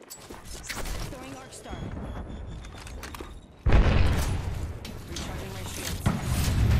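A frag grenade blast in Apex Legends, a sudden loud boom that rumbles on after a stretch of gameplay noise, with a voice talking beforehand.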